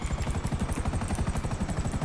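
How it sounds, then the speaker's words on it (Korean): A Buzzard helicopter in the video game GTA 5 gives a loud, steady rotor chop with fast, even rhythmic thumps over an engine whine, continuous and close, with no talking. "이제 헬기에 무기 사용을 할게요 역시 버자드로 진행하겠습니다"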